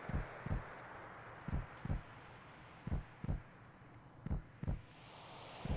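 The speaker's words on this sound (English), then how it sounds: "I don't like that it's like a heart beating sound" Final Fantasy VII game audio carries a slow heartbeat-like pulse, soft paired low thumps repeating at an even pace over a quiet airy background.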